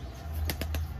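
Pigeons flap their wings in three quick, close bursts over a low steady hum, with no talking.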